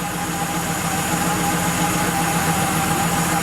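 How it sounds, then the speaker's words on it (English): A Porsche 911 3.2 Carrera flat-six idles smoothly and steadily, a continuous low mechanical hum with no stumbles or misfires, heard up close without any talking. "That's a pretty smooth idle, too."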